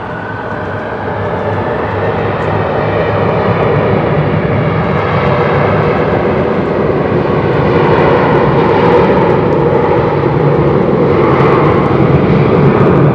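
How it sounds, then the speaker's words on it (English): Boeing 737 BBJ business jet taking off from runway 28 at Zürich-Kloten, a loud steady engine roar that holds strong and swells slightly throughout, with no voices. "Runway 28, and we're clear for takeoff."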